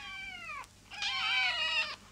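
A kitten meows twice up close, first a short falling mew and then a longer, brighter cry, against a quiet room with no talk.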